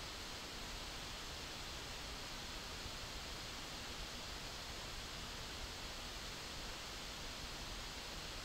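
Cooling fan of an ASUS laptop with an AMD Ryzen 7 4800H under load, a faint, steady broadband whoosh with no change throughout.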